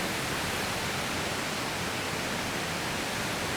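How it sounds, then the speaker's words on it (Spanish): Chorrillito waterfall in Panama, falling into a small pool below, heard as a continuous, even hiss of rushing water, loud and close, with no pauses or other sounds. "allá hay otra, la cascada, es como una media lagunilla y todo esto se forma la cascada que cae"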